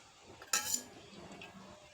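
Cooked food scraped out of a pan into a bowl during Telugu home cooking of a cucumber-tomato chutney, with a single bright metallic clink and clatter of a spoon against cookware midway, then quiet soft scraping.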